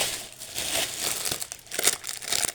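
Plastic bags crinkle and rustle as items are packed into a hospital bag. The handling is close by and uneven, with sharper crackles in bursts and no voices.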